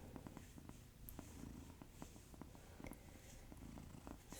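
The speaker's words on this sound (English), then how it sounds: "I guess we'll have a little bit of purring in the background" A cat named Milo purring softly and steadily, a low rapid rumble with gentle rhythmic pulses, close but faint in a quiet room.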